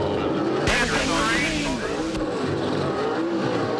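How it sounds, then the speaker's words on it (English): An Indy race car revs and pulls away from its pit stop during the 1998 Indianapolis 500, a loud engine surge over crowd and track noise, with commentary voices running underneath. "Revs up."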